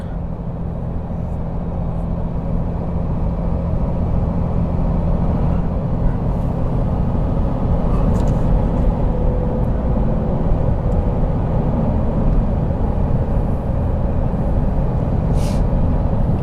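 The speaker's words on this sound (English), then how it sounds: "traffic is really slow up here today" Dense, steady roar of slow-moving road traffic, loud and continuous like many vehicles idling and rolling past at once, with occasional faint clicks and hisses on top and no voices.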